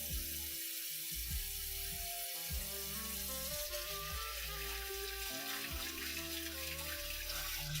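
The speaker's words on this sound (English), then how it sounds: "Cold water, rinse them clean." Cold water runs from a kitchen tap into a sink while food is rinsed beneath the stream, a steady, close splashing flow that stays constant throughout, with faint clinks in the background and nobody talking.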